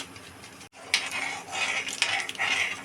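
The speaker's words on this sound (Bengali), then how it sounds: "লাল ফুড কালার দিয়ে এবার সমানে নাড়তে হবে" Red food colouring being stirred into a mango milk pudding mixture, a spoon scraping and clinking against the bowl in short, irregular strokes close by, with a brief silent break early on.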